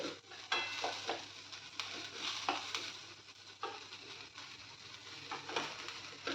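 Green chillies sizzle in hot oil in a pan while being fried for coriander chutney, with steady crackling and periodic scraping stirs of a spatula, fairly soft and close, with no voices.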